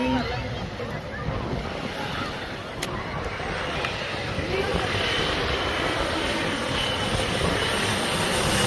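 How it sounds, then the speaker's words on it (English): A fixed-wing airplane flies low over the beach at St. Martin, its engine roar swelling steadily above the constant wash of surf, loud and close throughout. "Look at that plane."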